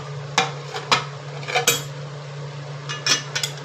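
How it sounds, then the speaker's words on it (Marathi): A metal spatula scrapes and clinks against a pan while potato bhaji is tossed and stirred: a handful of sharp, separate knocks and scrapes over a steady low hum, with quiet pauses between strokes. "असं परतून घेऊ व्यवस्थित"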